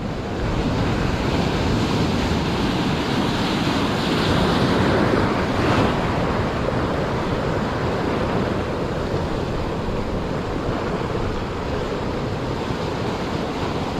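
Ocean waves surge and break steadily onto the shore at an evening bass fishing spot, a continuous loud wash with wind noise buffeting the microphone throughout.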